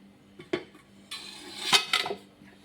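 A kinnathappam is set into a pressure cooker onto a metal trivet over a little water, giving a few sharp metallic clinks followed by a brief clatter of metal on metal.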